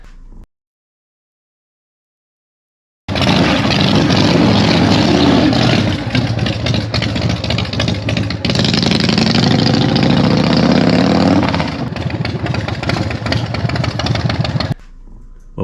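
Harley-Davidson motorcycle fitted with homemade exhaust baffles starts up after a short silence, then idles loud and close with a deep throaty rumble and a couple of throttle blips before cutting off.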